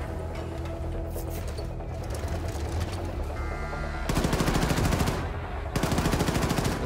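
Automatic weapon fire in Wolfenstein II: The New Colossus, starting with quieter game noise and then two loud bursts of rapid, evenly spaced shots, the second after a short pause.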